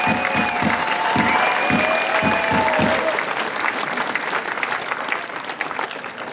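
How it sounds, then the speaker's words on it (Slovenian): Big round of applause from a festival crowd at an outdoor awards ceremony, dense and loud clapping with a few sharper claps near the start, carrying on steadily throughout with no talking. "Skupinska fotografija in velik aplavz za Opoj, ki nam bodo na koncu še enkrat zašpilali."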